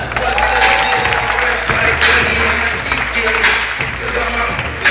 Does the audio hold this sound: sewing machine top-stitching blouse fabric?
no